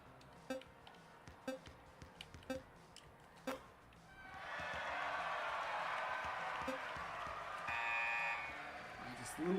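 A basketball video game's buzzer sounds as a loud sustained tone after several sharp bounce-like thuds, with crowd noise swelling beneath it and a second brighter tone near the end.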